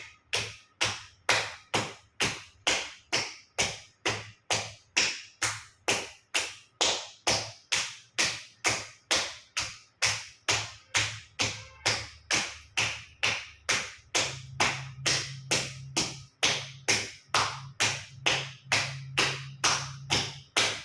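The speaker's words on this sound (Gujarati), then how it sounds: "બંને સાઈડ પગના તળિયા ઉપર જોરથી ઝાપટ 50 વખત જોરથી તાળી આપીશું" Hands slap hard and fast against the soles of the feet during a yoga exercise, a long steady run of sharp, evenly spaced claps, about two per second, close and loud with no talking.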